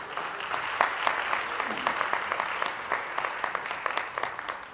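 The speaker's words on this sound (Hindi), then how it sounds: "जोरदार तालियों से स्वागत।" Loud, dense applause from a large audience welcoming a guest at a centennial celebration event for Ustad Bismillah Khan, sustained clapping throughout with no speech.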